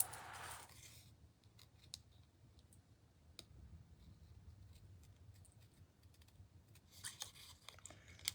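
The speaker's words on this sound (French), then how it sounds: "Juste découper enlever un petit peu de blanc pour que ça fasse plus beau." Scissors cut paper to trim the white edge of a handmade card, giving soft, scattered snips and clicks at close range in a quiet room.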